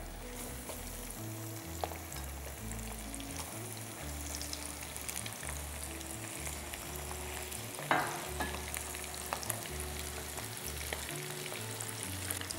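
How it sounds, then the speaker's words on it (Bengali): Chicken deep frying in oil in a home kitchen, with a continuous quiet bubbling sizzle and scattered crackles, plus occasional stirring knocks, under a low background hum. "এবার চিকেনটা আমি ওতে দিয়ে দেবো,"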